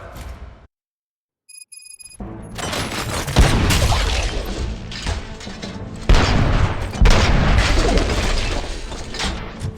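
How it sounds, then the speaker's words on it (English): Heavy gunfire in the RoboCop Rogue City video game, a loud sustained barrage with booming impacts that starts after a short silent gap and a brief electronic tone. "Gunshots? What's going on?"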